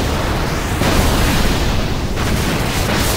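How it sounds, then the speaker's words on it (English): Loud, continuous rumbling explosions from the finale of the video game Final Fantasy X-2, a dense wall of booms and bursts that fills the whole stretch without pause. "Explosions galore."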